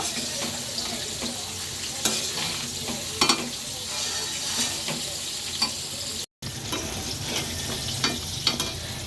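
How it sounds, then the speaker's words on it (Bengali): Fried rice is being stirred and tossed in a sizzling pan with two tablespoons of sauce and spices, making a steady frying hiss broken by repeated scraping strokes, with a very short dropout partway through. "এখন পুরোটা মশলার সাথে ভালো করে ফ্রাইড রাইসটা মিক্সড করে নিব"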